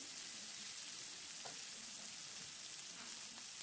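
Garlic frying in a pan with turmeric, a steady soft sizzle throughout with faint clinks and stirring touches, no voices.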